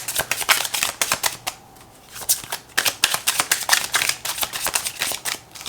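Tarot and oracle cards shuffled by hand in quick riffling bursts of crisp, papery flicks, close and clear, pausing briefly partway through before resuming in a steady rhythm.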